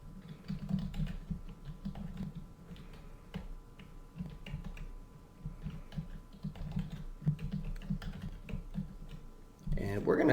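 Keys clatter on a computer keyboard while a custom line-item database is set up, giving a steady run of light, fast clicks at close range, with a brief louder burst near the end.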